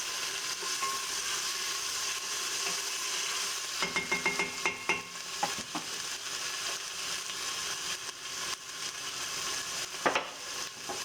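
Chana dhal with tomato, green chilli and spices frying in a pan, a steady sizzle throughout with a burst of spoon scrapes and clinks against the pan in the middle and another knock near the end.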